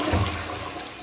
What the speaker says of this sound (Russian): Смыв проверяем